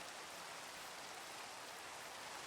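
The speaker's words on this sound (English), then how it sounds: "Ooh, rain." Steady rain falling outdoors, a continuous broadband hiss with no distinct drops standing out, fairly faint and even throughout, with no voices.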